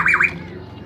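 A pigeon gives a short, loud, close squawk, two quick rising-falling notes lasting well under half a second, followed by quiet.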